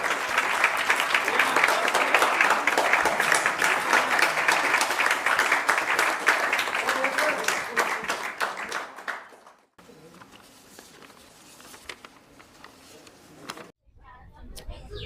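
Theater audience applause after a staging of the play Kanyadan at a theater festival: loud, dense clapping continues for about nine seconds, then drops away abruptly, leaving quieter room sound with talk and a brief burst at the end.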